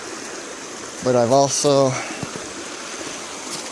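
A creek below a reservoir in a canyon streams steadily as a constant broadband wash, close and continuous, with someone briefly talking over it.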